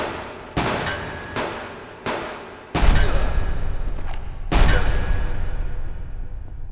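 Gunshots ring out in the survival game Subsistence, five loud separate cracks, each with a long echoing decay. The first three come in a steady rhythm and two heavier, booming shots follow.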